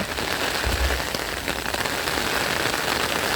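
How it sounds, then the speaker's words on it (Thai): Steady, dense rain patters on surfaces all around, a continuous hiss of drops with a brief low thump early on. "เสียงฝน"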